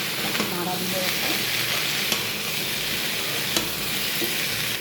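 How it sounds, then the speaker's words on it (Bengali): Eggplant, potato, papaya and fish fry with turmeric and salt in a pan, a loud continuous close sizzle with occasional sharp scrapes of a stirring utensil. "নাড়া দিব একটা।"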